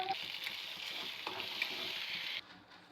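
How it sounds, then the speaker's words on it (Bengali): An egg fries in hot oil in a wok, a steady loud sizzle with faint stirring scrapes that drops away sharply near the end. "এবার ডিমটা ভেজে নেবো।"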